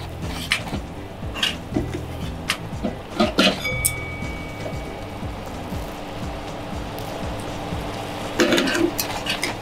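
Kombu kelp simmers over low heat in nearly reduced ponzu, giving a soft, close bubbling crackle broken by scattered light clicks and taps.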